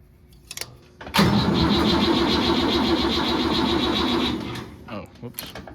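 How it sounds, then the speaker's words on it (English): A farm tractor engine cranks over and catches, then runs loudly and steadily close by for about three seconds before settling and dropping away, with faint knocks and rustles around it. "So I'm gonna get this tractor back out of here."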